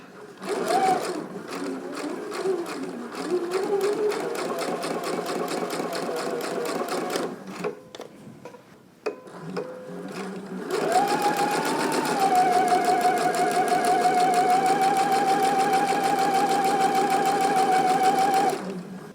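A sewing machine runs two rows of gathering stitches in bursts: a steady close mechanical whir with rhythmic needle ticking, a brief pause with handling clicks, then a longer continuous loud run.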